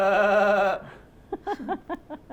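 A voice imitates a goat's bleat, giving several short wavering 'baa' calls in a rapid uneven series after a brief sustained tone.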